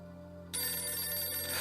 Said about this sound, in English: Starling calling ringtone.